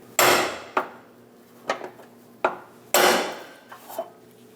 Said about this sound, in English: Using a hammer and a punch, lock down the ring.